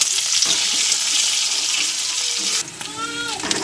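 Chopped onion hits hot oil in a kadai already seasoned with cardamom and cinnamon for tarka dal, giving a loud, steady close-up sizzle that shifts near the end as the pan is stirred.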